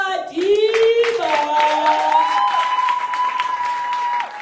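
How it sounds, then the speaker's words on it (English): An audience at a live slam event bursts into applause, with clapping mixed under a loud, drawn-out vocal whoop and cheering that holds for several seconds before fading. "a round of applause for Tabani Madiba,"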